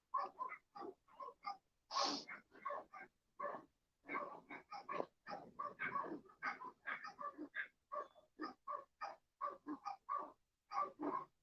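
Four or five dogs bark frantically from behind a fence, a dense run of sharp overlapping barks with a few whimpers mixed in. The barking stays close and loud and keeps going without a break.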